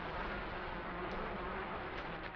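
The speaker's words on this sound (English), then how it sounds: "Those look like bees." A dense, steady buzzing of bees fills a scene in the video game Turtles in Limbo. The drone is loud and continuous, with no voices over it.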